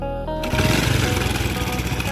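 A motorcycle engine idles close by with a fast, choppy putter and a thin whine on top, steady and loud after a brief start.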